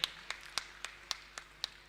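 Audience clapping to honour guests at a Jain religious gathering, heard as sparse, sharp hand claps spaced at an even pace, fairly quiet and with no talk over them.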